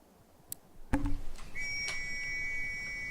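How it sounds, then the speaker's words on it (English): A sharp referee's whistle starts an online 5v5 video game match: a short blast, then a long steady tone held over a low rumble, with no commentary over it. "And there's the whistle, guys."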